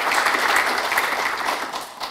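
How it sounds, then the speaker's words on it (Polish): An audience claps for its hosts at a congress, giving a steady burst of applause that stays even for about two seconds and then tails off slightly. "także oklaski dla naszych gospodarzy"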